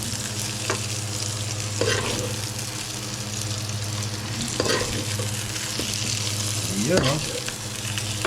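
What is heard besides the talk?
pork being sautéed and stirred in a pan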